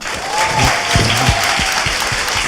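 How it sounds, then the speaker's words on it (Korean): Studio audience applause from a Korean talk-show taping, a dense steady clatter of clapping hands throughout, loud and close with faint voices mixed underneath. "다시 박수."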